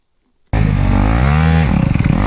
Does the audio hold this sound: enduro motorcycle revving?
yes